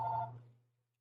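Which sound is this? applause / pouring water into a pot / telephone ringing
telephone ringing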